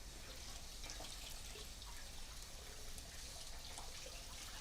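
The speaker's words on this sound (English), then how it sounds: "you can put them directly under that running water" Cold tap water runs over boiled eggs as they are peeled, a steady close hiss of flowing water with faint splashing and no talking.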